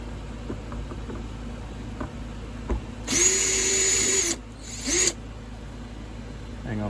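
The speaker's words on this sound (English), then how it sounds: "we're going to take a drill to get them out." A power drill removing screws from a Hobie Island boat's mast bearing whirs in two short bursts, a longer run then a brief one, with faint clicks and handling noise between, no speech.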